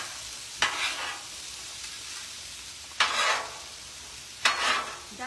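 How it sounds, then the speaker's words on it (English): Butterflied pork chops and vegetables get stirred on a Blackstone griddle, giving three short, bright scraping bursts over a soft continuous sizzle, close by and fairly quiet, with a voice speaking briefly. "And we're going to stir those up a little bit, kind of mix those up."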